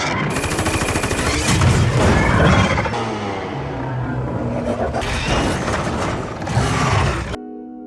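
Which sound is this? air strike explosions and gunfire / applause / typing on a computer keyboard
air strike explosions and gunfire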